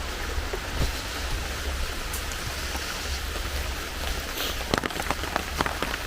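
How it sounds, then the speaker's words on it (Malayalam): Light rain falls steadily through the night, making a soft, even hiss with scattered faint drips and taps, with no voices. "രാത്രി ഫുള്ള് ചെറിയ മഴയാണ്, നിന്നിട്ടേ ഇല്ല."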